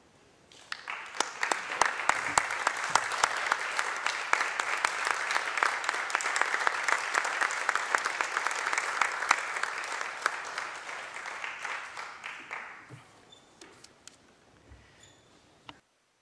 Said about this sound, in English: So for your 30 years of service, I'm going to stand up and applaud.